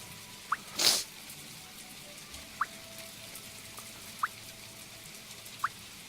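Rain in the video game My Time at Portia falls as sparse, separate drips at a slow, irregular pace over a low steady hum, with one brief louder splashing burst near the start.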